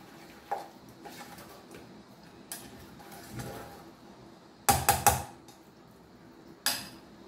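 Homemade mango pickle being mixed in a bowl, with scattered spoon clinks and scrapes and a short burst of louder clattering against the bowl amid quiet pauses.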